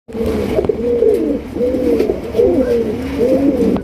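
Pigeons coo close by in repeated rolling, throaty phrases, one after another with brief pauses between.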